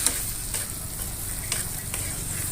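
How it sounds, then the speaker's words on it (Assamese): Bhut jolokia chili pickle stirred with salt and oil, a soft, steady wet scraping and sizzle-like hiss with a few brief clinks from the utensil, close up and without talking. "মই ভালদৰে এনেকৈ লৰাই ল'ম যাতে নিমখ আৰু তেল গোটেই জলকীয়াখিনিৰ মাজত সোমাই যায়"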